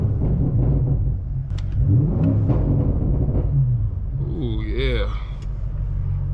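BMW G30 M550i engine revving inside a car wash to blow soap out of the exhaust: a steady low rumble, then the engine note climbs and wavers in a short rev burst near the end.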